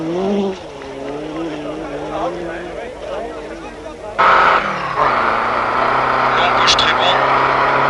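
Onboard a Renault 5 Turbo rally car at the 1981 Monte Carlo Rally, the engine drones and rises through gears, then surges louder into a sustained high roar, with a co-driver calling notes over the noise.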